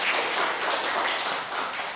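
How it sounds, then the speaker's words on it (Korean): Audience applause at a Christian newspaper symposium in Korea, steady dense clapping from many hands sustained throughout, with no talk over it. "우리 네 분께 크게 감사의 박수 드립니다."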